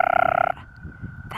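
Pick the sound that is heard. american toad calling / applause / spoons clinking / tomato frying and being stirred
american toad calling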